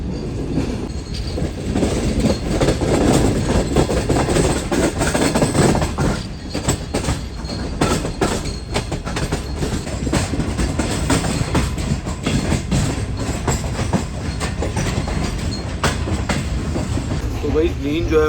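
Shah Hussain Express train approaching Rohri Junction station, a continuous loud rumble with clickety-clack of wheels and occasional squeal, heard from inside a coach, with faint voices now and then.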